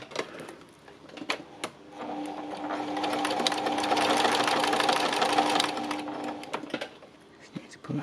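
A sewing machine stitches fabric in a rapid, even whirring run of a few seconds, close and fairly quiet, framed by scattered clicks and handling noises before and after.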